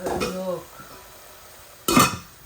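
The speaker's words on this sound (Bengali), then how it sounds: "বাজা হোক মরিচ মশলাগুলা।" Spices such as cumin, chili, turmeric and curry powder are stirred in a curry pan, with two short bursts of close utensil scraping and clatter over faint frying. A brief voice sounds at the start.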